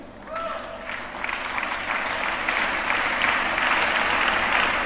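Mourners at a funeral service for Pastor Dare Adeboye give a round of applause to welcome his wife, the clapping swelling from a soft start into a sustained, loud crowd ovation.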